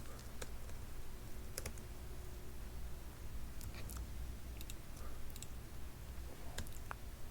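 Computer keyboard keys clicking in short irregular bursts while a name is typed, over a steady low room hum, no talking.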